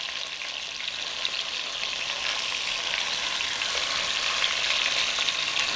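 Chicken pieces browning in a hot pan, a loud, steady frying sizzle that stays close and continuous, swelling slightly as it goes on, with no voices over it.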